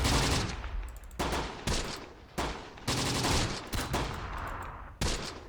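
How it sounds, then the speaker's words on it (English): Sustained gunfire from Close Combat: The Bloody First, a WWII tactical wargame, with dense overlapping rifle and machine-gun bursts in several loud volleys separated by brief dips, continuous throughout. "So at this point, we'll just return fire."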